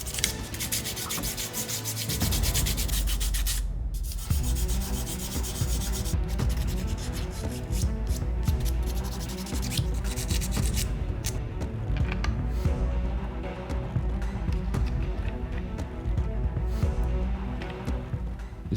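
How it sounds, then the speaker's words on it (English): Sandpaper of 800 then 1200 grit rubs over 3D-printed diorama parts in quick, steady back-and-forth strokes, a close, continuous scratchy hiss after a brief quiet start. "It was time to clean the prints with some sanding. Here, I'm just using an 800 grit,"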